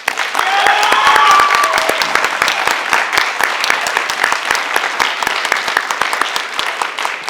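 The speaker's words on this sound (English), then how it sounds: "if we could just give a round of applause again for that" Audience applause at a Rotary Club Four-Way speech contest for high school students, a dense sustained clapping that stays loud throughout with a few voices faintly underneath.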